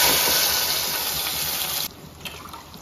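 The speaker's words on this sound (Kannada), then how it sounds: "ಸ್ವಲ್ಪ ನೀರು ಹಾಕ್ತೀನಿ." Water pours steadily into a cooking pot of rasam with a rushing, splashing sound, close and fairly loud, then cuts off abruptly, leaving a few faint drips.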